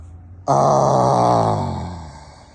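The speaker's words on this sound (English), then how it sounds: "Then out with the mouth, let out the sound, ah." A person lets out a long, loud open "ah" on an outward breath through the mouth, starting abruptly and slowly fading away.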